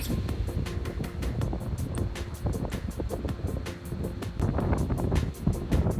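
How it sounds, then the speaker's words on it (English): On the snowy Cucamonga–Etiwanda mountain trail, wind buffets the microphone with a loud, steady low rumble, under a regular rhythm of crunching footsteps. "it is getting windier and windier"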